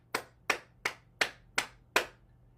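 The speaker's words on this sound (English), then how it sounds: "So clap 9 times." Six sharp hand claps in a steady rhythm during a circulation and heart-health exercise routine, close and clear with no talking.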